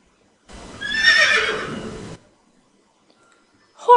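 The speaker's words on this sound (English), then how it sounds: "Horse." A horse whinnies once, a clear, loud neigh of about a second and a half, with silence after and a brief sound at the end.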